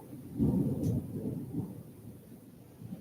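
Low thunder rumbles and rolls near the start, then fades into a quieter steady wash of rain, without any voices.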